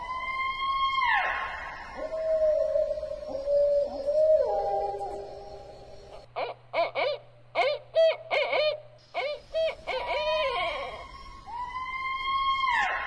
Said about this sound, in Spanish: El Búho Barrado. Este búho grande habita en Canadá y Estados Unidos y posee uno de los cantos más extraños y asustadores.